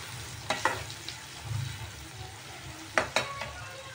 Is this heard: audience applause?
no